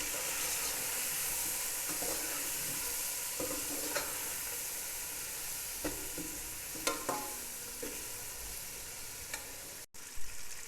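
Turmeric and salt stirred into spices frying in a pan for chicken pulao, a steady close sizzle with scattered crackles and spoon scrapes throughout.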